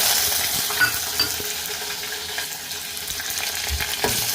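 Tomato pieces frying in hot oil with tempering seeds, small onions, curry leaves and dried red chillies for jaggery rasam, a steady close sizzle with occasional scrapes and clinks of a spoon stirring the pan.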